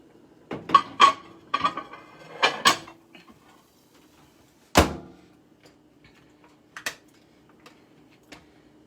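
A covered dish of creamy chicken and asparagus goes into a microwave, with a few close clinks and clunks, then a sharp door thump and faint beeps, no talk.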